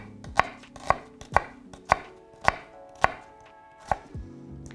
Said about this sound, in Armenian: զբաղվենք այս բանջարեղենների կտրատմամբ